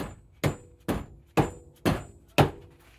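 A hammer strikes a Topec deep bolt extractor socket five times at a steady pace about half a second apart, each blow a sharp metallic thunk that fades quickly.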